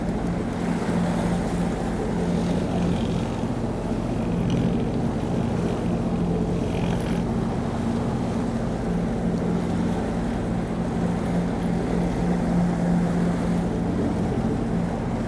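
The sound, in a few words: boat engine running out on the water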